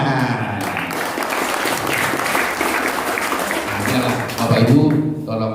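Applause from an audience at a community iftar gathering, a dense broadband patter of clapping hands held steadily through the clip, with music or voices mixed in underneath.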